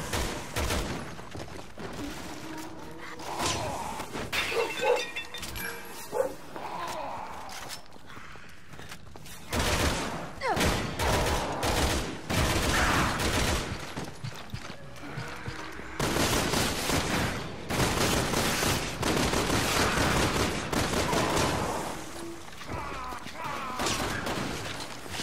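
Rapid bursts of gunfire and mechanical clatter in Resident Evil 6, repeated volleys loud and dense with no speech over them.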